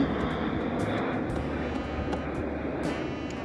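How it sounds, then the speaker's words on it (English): An airplane passes overhead outdoors, a steady broad roar of jet engine noise that holds at an even level throughout, with no one speaking while it goes by. "we'll wait for this plane to pass on real quick"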